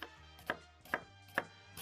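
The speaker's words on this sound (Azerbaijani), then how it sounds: "Bunu xırda-xırda doğrayacağam." A knife chops an onion finely for burritos, giving three sharp, evenly spaced cuts about half a second apart, close and fairly quiet, with a low hum in the background and no voices.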